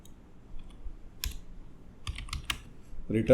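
Sparse computer keyboard typing while entering code, a few scattered keystrokes then a short quick burst, fairly faint and near.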